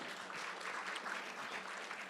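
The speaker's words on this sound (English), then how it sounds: "let's give them all a round of applause before they come up on stage" An audience at a panel discussion applauds the panelists before they come on stage, a soft, steady stream of clapping from a crowd, faint and distant, with no voices over it.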